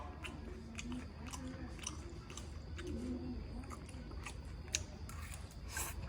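Close, soft chewing of crispy stir-fried snakehead fish with celery, steady wet crunches and squishes running the whole time at low level, with no talk.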